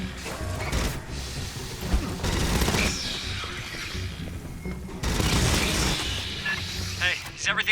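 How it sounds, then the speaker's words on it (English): Gunfire in the Aliens: Fireteam Elite sci-fi shooter, bursts of rapid weapon fire and booming impacts mixed with mechanical clanks and creaks, loud and continuous, with voices talking over the action. "I heard gunfire"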